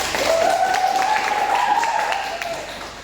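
Eighth-grade students in a junior high classroom applaud together after a classmate's answer, a dense steady patter of clapping over about three seconds, with a faint voice running under it.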